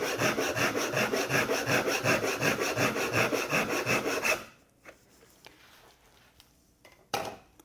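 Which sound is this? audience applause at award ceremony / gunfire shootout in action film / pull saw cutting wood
pull saw cutting wood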